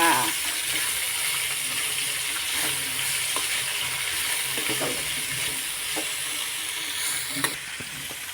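Cluster beans (gokarakaya) curry fries in a pan with a steady, moderate sizzle, broken by a few soft stirring scrapes and a sharp clink near the end.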